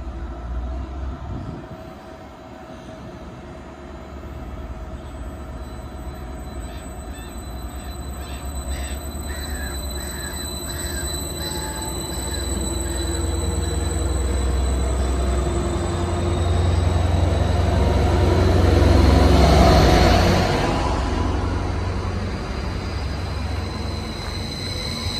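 A Class 755 unit, 755401, pulls away from Derby Road station on the Felixstowe branch, its low engine rumble and wheel noise building steadily and peaking near the end before easing slightly, with no talk over it.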